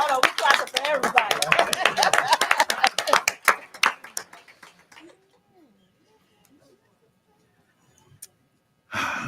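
A room of people at a school district board meeting claps briskly for several seconds, the clapping thinning out and stopping, followed by near silence and a brief return of sound at the end.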